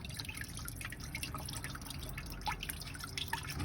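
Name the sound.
water draining from a Chrysler Town and Country radiator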